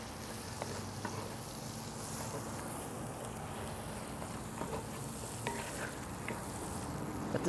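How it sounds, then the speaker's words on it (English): Minced garlic and softened onions fry in a pan, producing a faint, even, continuous sizzle with light stirring taps and no talk. "let's add in now some garlic, about 1 tablespoon of minced garlic"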